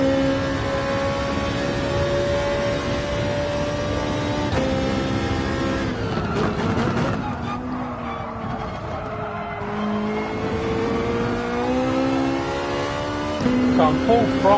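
Ferrari GR4 race car engine in a racing video game, revving hard at full throttle with rising and falling pitch through gear changes and a hint of tire squeal, someone talking over it.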